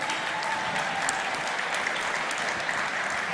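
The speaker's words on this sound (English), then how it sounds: "can we get one more applause for this?" An audience at the WRO International Final 2022 robotics competition applauds, a dense, steady clapping that fills the whole stretch at even loudness.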